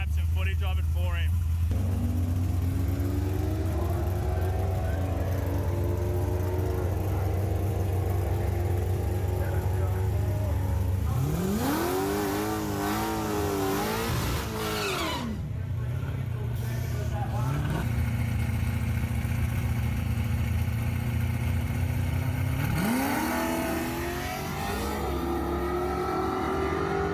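A drag challenge car's engine revs hard and accelerates in loud rising sweeps, dropping back to a steady idle drone between bursts, with people talking over it.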